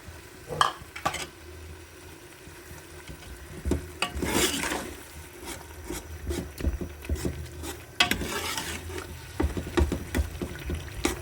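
Masala paste fries in oil for a goat trotters curry, a soft sizzle broken by repeated spoon scrapes and knocks against the pot as it is stirred.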